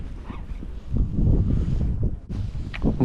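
Wind buffets a fishing boat out on the water during an opening-day predator fishing trip, with gusty rumbling bursts against the microphone that rise and fall over a few seconds.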